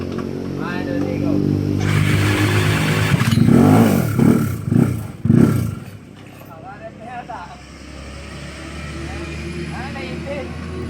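A Yamaha Mio i 125 scooter converted to a 246cc hybrid setup with a Sniper head and block revs hard in several sharp bursts, then drops to a rough idle, loud and close, with people talking over it.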